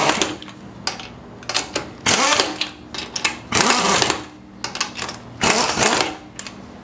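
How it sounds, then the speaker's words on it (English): An impact wrench tightens the rear wheel lug nuts on a Toyota Sequoia, firing in a series of loud, close rattling bursts, each lasting about half a second to a second, separated by short pauses. "we'll use the impact wrench to slightly tighten these back up"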